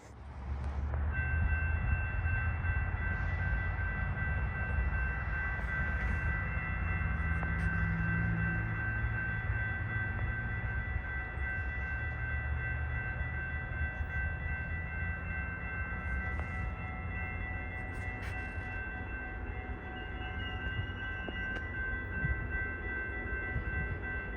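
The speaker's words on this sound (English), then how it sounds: "The next GO train I got in was heading from Trotter to Barrie" A GO passenger train rumbles and hums steadily for a long stretch, with a sustained high electric whine and occasional rail clatter, close and loud.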